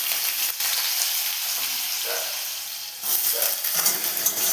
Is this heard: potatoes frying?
yes